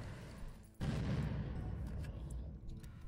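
Gunfire in the survival video game Unturned: a sudden burst of shots erupts and then holds as a dense, rumbling barrage, loud and continuous, with no voices.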